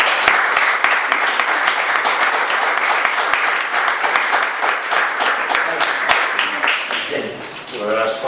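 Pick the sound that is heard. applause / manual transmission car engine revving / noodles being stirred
applause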